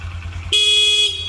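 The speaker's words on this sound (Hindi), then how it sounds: "हॉर्न बजा दो।" A single sustained car horn honk, loud and steady for about half a second, over a low idling engine rumble.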